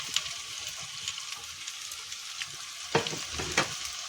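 Chopped onions and tomatoes sauté in a pan for fish curry with a steady, close hiss of frying and a few louder stirring scrapes near the end.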